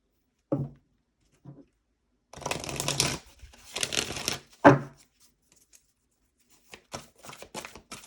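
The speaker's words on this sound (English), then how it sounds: "I'll just start by pulling a couple cards for Moon first and foremost." Tarot cards shuffled and drawn by hand, a few soft taps followed by two long riffling shuffles and a sharp snap, then scattered light card flicks, close and quiet with no talking.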